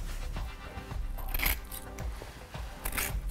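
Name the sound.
scissors trimming flush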